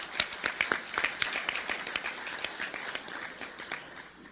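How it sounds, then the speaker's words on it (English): Scattered, uneven clapping from a modest audience at a Rotary club meeting, individual claps distinct and fairly close, fading in density toward the end. "So let's recognize our sponsors also with a round of applause."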